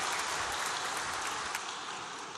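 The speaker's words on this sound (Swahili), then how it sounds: "ningeliomba wajumbe pia tumpigie makofi mengi Mheshimiwa Mavunde kwa kuwa nasi" Audience delegates at a youth conference meeting give a round of applause for Honourable Mavunde; steady broadband clapping fills the clip at moderate, even level with no speech over it.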